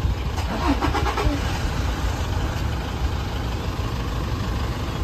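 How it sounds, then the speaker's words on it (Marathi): A new car's engine starts and settles into a steady, close, low rumbling idle that runs unbroken through the clip. "आता आपली गाडी चालू होते नवीन वाली"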